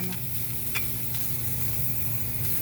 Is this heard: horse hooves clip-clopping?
no